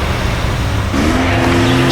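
A car engine idles low and then rises into a steady revving pull as the vehicle starts to drive off, fairly close and loud, with no talking over it.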